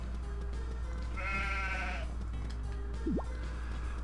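A sheep in the farming video game Harvest Moon: Magical Melody lets out one wavering bleat around the middle, then a short, sharp upward squeak, set over a steady background hum.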